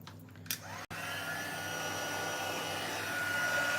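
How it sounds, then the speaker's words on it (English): A Stampin' Up heat embossing tool blows hot air to melt embossing powder on a card, making a steady, close, hair-dryer-like whoosh that starts after a brief click and holds evenly to the end. "I'm going to bring my heat tool in and just quickly melt that"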